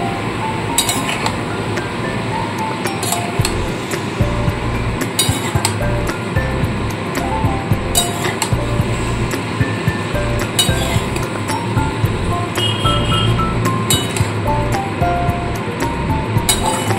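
Vegetables are tossed with spices in a pan for a small-prawn dish, with metal spatula strokes clinking and scraping steadily against the cookware, close and fairly loud, over a low background hiss.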